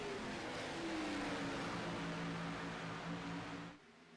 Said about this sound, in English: let's listen to these cars roar away here at Atlanta